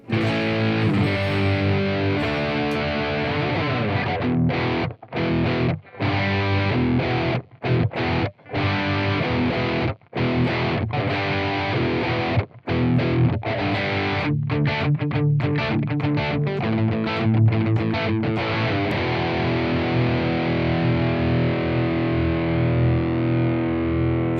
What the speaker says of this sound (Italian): il St. James 6L6, che abbiamo detto è un amplificatore dalle sonorità più moderne e anche più aggressivo